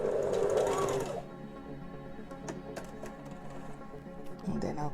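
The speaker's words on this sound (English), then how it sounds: "I will change my stitch to a tighter stitch and then sew it all the way like so." A sewing machine runs steadily, stitching fabric with a tighter stitch while sewing a toile. A louder burst opens the run, then it settles into a continuous close hum with faint clicks.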